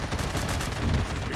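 Dense, continuous gunfire in the zombie mode of the mobile shooter game Call of Duty Mobile, a loud unbroken rattle of shots filling the short stretch with no talk.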